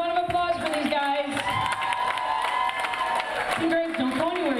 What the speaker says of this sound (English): Congratulations, round of applause for these guys.